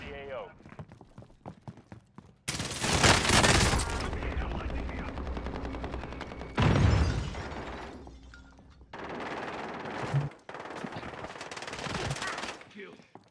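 Automatic gunfire rattles in Call of Duty Cold War Warzone, with loud, sustained bursts broken by short pauses, and a player's voice faintly audible near the start.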